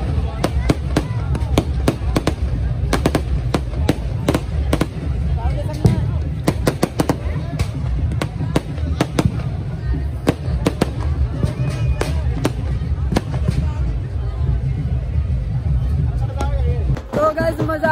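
Fireworks and firecrackers burst repeatedly on New Year's night in Rajasthan, sharp cracks scattered throughout over a steady low rumble and a dense crowd hubbub with people celebrating and dancing.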